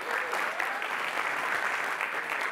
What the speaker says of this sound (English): if we can get a round of applause before I begin,